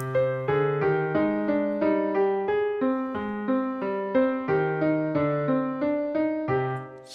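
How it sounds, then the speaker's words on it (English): Vocaloid 4 synthesized voice singing a motif and countermotif together, two interleaved melodic lines of evenly pulsed notes in a steady rhythm, clear and alone. "On the left-hand side is vocaloid 4, which has two parts, a motif and a countermotif"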